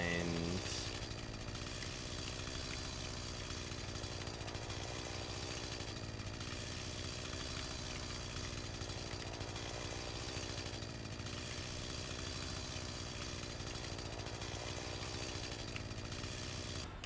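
A small engine drones steadily and roughly, like a chainsaw idling or running, sustained throughout at moderate distance.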